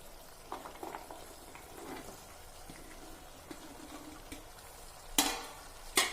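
Cauliflower and carrot pickle is stirred slowly in a small frying wok, with gentle sizzling, soft scraping and scattered clinks, then two louder metallic scrapes near the end.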